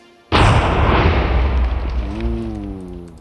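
A missile launched in modded Minecraft bursts into a sudden loud explosion, followed by a long rumbling decay as the blast fades, close and alone without talking.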